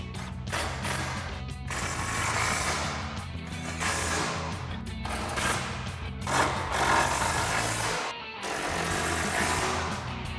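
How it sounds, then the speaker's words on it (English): A 15 mm socket ratchets steadily as it tightens fog light bolts on a 2014-2015 Sierra 1500 during an LED fog light install, with rapid clicking up close and a brief pause near the end. "We'll tighten them back down with our 15 mil socket."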